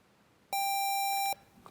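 A single steady electronic quiz buzzer tone sounds loudly for just under a second during a junior high school quiz match, then cuts off, leaving quiet room noise.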